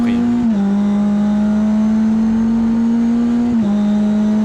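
A Mitjet race car engine held at a loud, steady buzzing drone on throttle, close and dominant, with two brief dips and recoveries in pitch as the driver blips on and off the gas.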